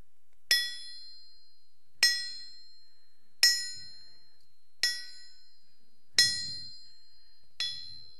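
Six sharp metallic hammer strikes on a big old anvil ring out alone at an even, unhurried pace, each bright clang decaying into a sustained ringing tone.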